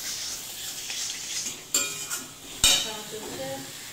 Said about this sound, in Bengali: এই কষানো চলছে